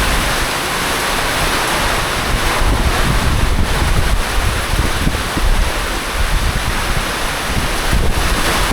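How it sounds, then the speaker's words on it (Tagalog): Strong wind and rain batter a hidden beach, a loud, unbroken roar of gusts buffeting the microphone over surf and rainfall, with no break in the din. "Naulan na. Lakas ng hangin"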